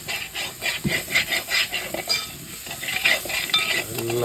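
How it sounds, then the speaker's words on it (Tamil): Chicken curry with pepper, coriander, turmeric and chicken masala powders stirred in a pan, rhythmic close scraping strokes over a sizzling bed, no talk. "எல்லாம் போட்டு கிண்டி எடுக்கணும்"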